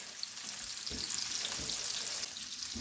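Mild Italian sausage frying in pepperoni oil gives a steady close sizzle and crackle, with a few soft stirring bumps and no voices.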